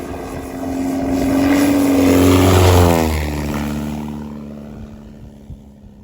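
A Supercub propeller plane comes in to land at an Alaskan landing strip, its engine drone swelling as it approaches, pitch dropping as it passes close by, then fading into the distance, with no talking.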